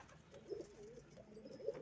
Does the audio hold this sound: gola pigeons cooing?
yes